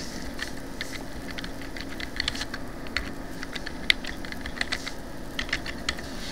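An email address typed on a computer keyboard, a steady run of light key clicks with uneven rhythm over a soft background hum, no talking.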